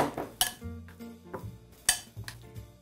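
A utensil stirs egg into a mayonnaise mixture in a bowl, giving a few sharp clinks and scrapes against the dish at an uneven rhythm. The sounds are close and heard alone.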